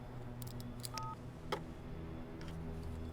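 A phone on speakerphone gives a single short, faint dialing tone partway through, set against a low, steady background hum.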